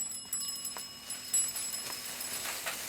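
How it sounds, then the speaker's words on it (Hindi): A bicycle bell rings in a quick series of bright metallic dings on a street, fairly close and repeated several times over the span, with no talking. "साइकिल की घंटी सुनाई नहीं देती?"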